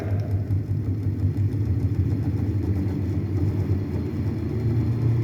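A motor-driven gyroscope disc spins up toward 1500 rpm on a lab apparatus, producing a steady low rumbling hum with a faint fluttering pulse throughout.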